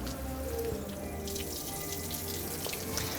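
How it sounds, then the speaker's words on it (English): Water runs steadily from the tap of a brewing press container as it drains, a constant splashing flow with no voices. "which will just release all the water that's inside the container"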